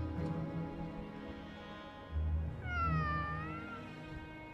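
A cat in the video game Sword Art Online meows, one drawn-out, clear meow rising and falling midway through, over a quiet, steady background music bed.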